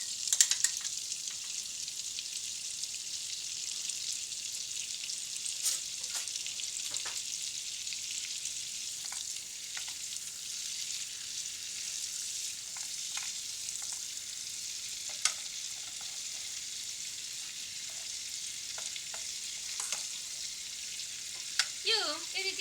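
Butter sizzles in a pan with a steady, moderate hiss and scattered small pops and crackles that continue evenly throughout.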